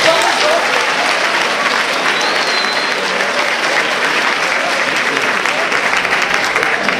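Opening-ceremony crowd at the Toulouse Game Show claps loudly and continuously, a dense, even wash of applause from a large audience filling the whole stretch.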